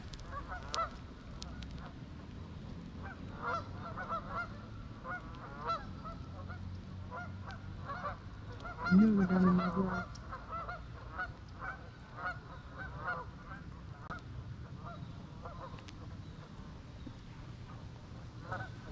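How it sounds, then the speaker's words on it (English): A single burst of honking from a large flock of geese stands out briefly amid steady outdoor background noise by cold water while fishing, with faint chatter of other birds at a distance. "There's so many geese over there."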